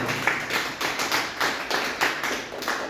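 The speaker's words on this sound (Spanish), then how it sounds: "Dale palmas, alábalo." Rhythmic hand clapping from a church congregation during worship, about eight sharp, evenly spaced claps in a steady beat, close and fairly loud with no voices over them.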